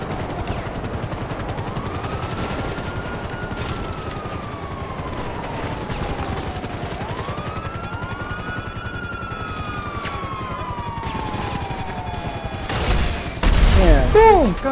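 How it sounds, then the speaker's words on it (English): Gunfire brings down a helicopter in GTA Online; rapid bursts of shots crackle over a droning rotor with sweeping whines, ending in a louder burst of crashing noise. "You just destroyed that helicopter?"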